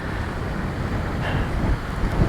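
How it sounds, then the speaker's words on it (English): Strong wind gusting on an exposed Scottish mountain, Beinn Eich, a steady loud roar buffeting the microphone with no pauses and a slight surge near the end. "It's a bit windy at the moment."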